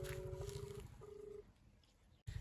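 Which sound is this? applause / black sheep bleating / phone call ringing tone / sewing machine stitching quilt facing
phone call ringing tone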